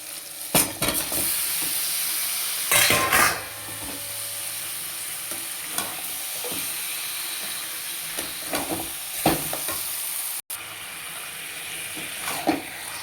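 Chicken pieces stirred with spice masala in a hot pan, a steady frying sizzle under intermittent scraping and clattering of the spoon against the pan, close and loud with no speech.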